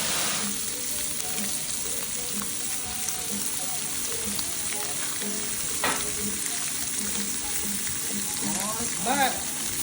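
Chicken parmesan frying on a Blackstone flat-top grill, a steady close sizzle and crackle with faint, rhythmic popping that carries on evenly throughout, with no talking.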